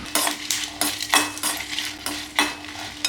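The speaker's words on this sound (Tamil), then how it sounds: "வரமிளகா 10 வரமிளகா அதையும் வறுத்துக்கலாம். லைட்டாக ஆயில் ஊற்றி வறுத்துக்குவோம்." Dried red chillies roast in a little oil in a pan, with a steady sizzle broken by repeated scraping strokes of a spoon or spatula, close and fairly loud, no talking.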